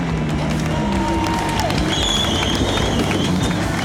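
Pit crew applauding and cheering as two Volkswagen Jettas finish a GTC National Series touring-car race, a loud, continuous crowd roar with scattered claps and engine noise beneath.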